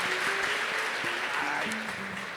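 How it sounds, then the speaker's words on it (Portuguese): A church congregation claps together, a brief burst of dense applause that fills the space while a faint voice carries over it. "pode dar uma salva de palmas ao Senhor"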